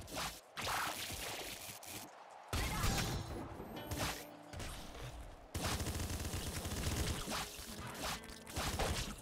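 Bursts of rapid gunfire from the top-down shooter Nuclear Throne crackle and boom in dense, choppy volleys, broken by short gaps, loud and close throughout.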